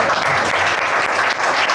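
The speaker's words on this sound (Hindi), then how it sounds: "जोर से ताली मार के धन्यवाद।" Church congregation at a Sunday prayer service clapping together in thanks, a dense, steady burst of applause filling the room throughout.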